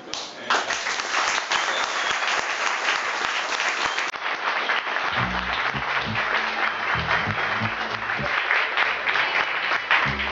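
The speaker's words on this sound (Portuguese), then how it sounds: "Voltar aqui e ser aplaudido, né, por um público aí tão, tão motivado" An audience at a technical school for aircraft maintenance applauds loudly and continuously, with low musical tones entering midway beneath the clapping.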